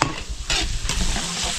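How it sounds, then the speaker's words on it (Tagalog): Garlic and onion sautéing for arroz Valenciana hiss and sizzle loudly in hot oil, close by, with stirring scrapes breaking through in short bursts and no talking. "gigisa na natin itong pang arroz Valenciana. Sobring eh. Bawang sibuyas"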